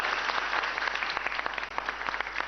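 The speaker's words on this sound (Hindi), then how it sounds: "तालियां बजाइए आपके लिए" An audience at a government quiz show in Rajasthan applauds a competing team, a brisk patter of many clapping hands at moderate volume lasting a couple of seconds.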